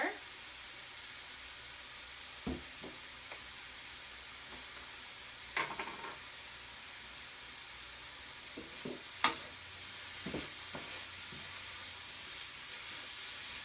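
Vegetables sizzle quietly as they are stir-fried in a pan, with a soft continuous hiss punctuated by occasional scrapes and taps of the utensil, and no talking over it.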